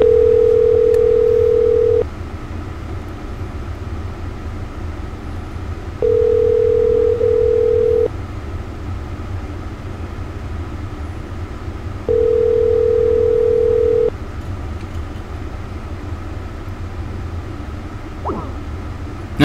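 Telephone call-back tones heard as three steady two-second beeps, evenly spaced and repeating over a quiet line hum, with no talk.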